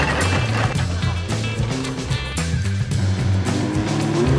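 A race car engine running hard from inside the cabin on a track, a loud continuous droning roar with shifting revs and rattling, close and dominant throughout.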